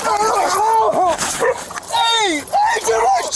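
A dog barks and yelps in a tense confrontation, loud and close, with several sharp whining barks in an uneven rhythm, mixed with shouting voices.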